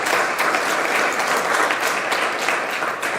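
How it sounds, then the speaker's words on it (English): Audience at an award lecture applauding the speaker, a steady, dense wash of clapping from many hands lasting the whole stretch without pause. "Can we give her another round of applause"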